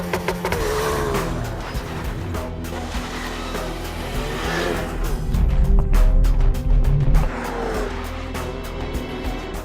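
A 2016 Ford Focus RS launches hard from a standstill under launch control, its engine loud and sustained with a strong low rumble and a rising surge as the car pulls away.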